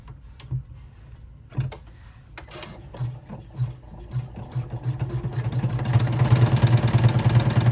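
A sewing machine top stitches a doll rucksack, starting with scattered short bursts and clicks. It builds into a steadier, louder whirring run toward the end, heard up close.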